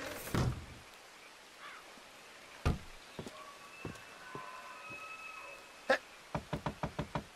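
Knocks on a wooden door in the video game Red Dead Redemption 2: scattered single raps, then a quick run of about six evenly spaced knocks at the end, close and crisp over quiet background.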